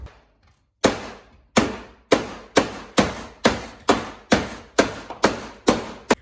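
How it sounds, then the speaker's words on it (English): Repeated hammer blows striking a steel torsion bar key to bend it, about ten sharp metallic hits in a steady rhythm, close and loud, after a brief quiet start. "we just finished hammering it"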